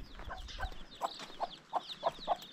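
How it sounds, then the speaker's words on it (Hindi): Several short, soft clucks from chickens at a moderate distance, spaced irregularly over a quiet outdoor background, in a hill village in Arunachal Pradesh, India. "मुर्गे भाई बहुत घूम रहे हैं,"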